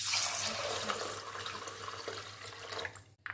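Running water splashes steadily as soaked black urad lentils and rice are rinsed in the kitchen, a soft continuous wash that breaks off near the end.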